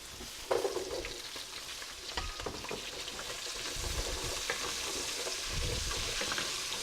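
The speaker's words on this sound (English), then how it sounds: "now we're going to go ahead and saute our vegetables in this pan" Vegetables crackle and sizzle in a hot pan, with occasional scraping stirs and soft clatters over a steady frying hiss.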